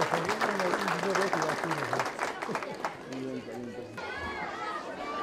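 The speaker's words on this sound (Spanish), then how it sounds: "Acompañamos con fuerte aplauso este momento especial." An audience at an education innovation event in Mollepata, Cusco, Peru claps strongly for a special moment, applause mixed with crowd chatter and voices talking over it throughout.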